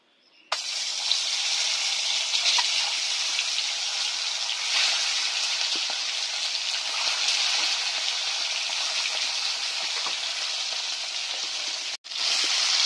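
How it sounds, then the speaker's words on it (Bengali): Eggs fry in hot oil in a heated pan, a loud, steady close-up sizzle that starts abruptly and continues with a brief break near the end. "তেল গরম হয়ে গেছে, ডিমগুলো ভেজে নিচ্ছি।"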